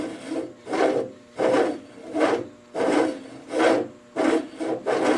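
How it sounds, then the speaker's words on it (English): A hand-powered lathe takes light cuts on a workpiece, producing rhythmic rasping scrapes in even strokes, about eight loud close passes with short pauses between them. "All I'm doing is just feeding it in by hand. Human powered lathe here."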